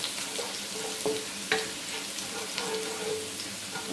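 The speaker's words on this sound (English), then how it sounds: "And you're gonna fry this until the garlic turns golden brown." Garlic fries over medium heat in a pan for a stir-fried spicy pickled green mustard dish, giving a soft, steady sizzle with a few light clicks and no voices.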